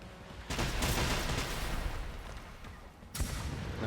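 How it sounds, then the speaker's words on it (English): Rocket barrage from hostile machines in the video game Generation Zero, a loud rumbling roar of rapid blasts that starts abruptly, sustains for a few seconds, dips, then bursts again close and heavy. "And the rocket barrage now is also twice as fast"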